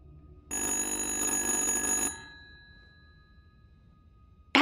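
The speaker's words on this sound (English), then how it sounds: "Answer the goddamn phone!" A telephone rings in the horror video game The Dark Pictures: Little Hope, a single bright electronic ring lasting about a second and a half, then a fading ringing tail in a quiet room.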